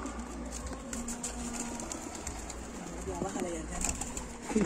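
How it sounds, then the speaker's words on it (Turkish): A Van tumbler pigeon coos softly among other birds outdoors, faint under steady background noise, while people talk nearby. "Bir tane van taklacısı geldi."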